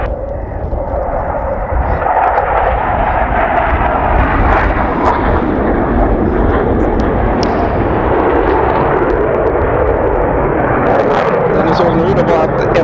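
A Saab JAS 39 Gripen fighter jet pulls a maximum-rate turn, its engine a loud, sustained broadband roar that holds steady throughout while a voice talks over it.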